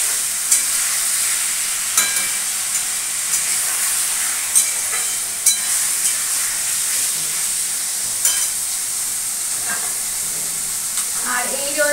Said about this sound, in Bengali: আলুগুলো দিয়ে দিচ্ছি, আলুগুলো পেঁয়াজের সাথে একটু ভাজা ভাজা করে দিই।